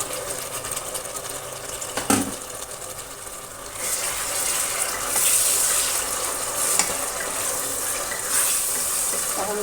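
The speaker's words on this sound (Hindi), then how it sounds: "अब हम इसको अच्छे से भून लेंगे" Roughly chopped large tomatoes sizzle and fry in a pan with garlic and ginger, a steady moderate crackle running throughout, with a brief stirring clatter near the start and the sizzle rising and brightening midway.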